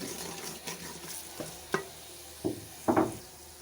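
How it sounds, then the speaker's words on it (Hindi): Dry spices roast in a pan under a soft low sizzle, broken by a handful of sharp spatula scrapes and knocks, one double clack near the end, close and moderately quiet, no voices. "1 से 2 मिनट तक इन्हें भूनेंगे।"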